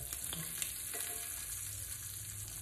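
Shrimp sizzling steadily in hot oil in a pasta pot for a one-pot Cajun jambalaya pasta, a loud, even, close frying hiss with a few faint clinks under it.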